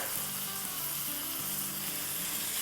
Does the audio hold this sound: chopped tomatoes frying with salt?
yes